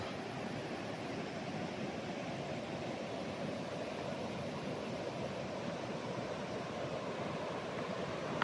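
Steady broadband rush of a river flowing beside a farm property in Majayjay, Laguna, a continuous even wash of water heard alone at moderate level with no voices.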